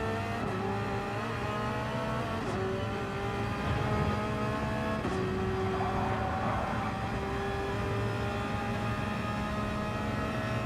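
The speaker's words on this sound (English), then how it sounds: "Ooh, that car sounds good." Race car engines in a GT Champions racing game drone loudly and steadily, pitch rising and falling through gear changes, with occasional sharp shifts and no talk.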